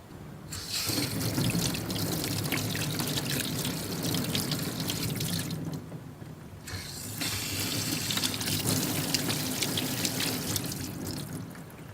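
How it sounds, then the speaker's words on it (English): Water from a garden tap runs steadily over dirty hands being rinsed at close range, a continuous splashing pour with a brief dip midway before the flow resumes, no speech. "So let's go ahead, give these a rinse, and see what the results are."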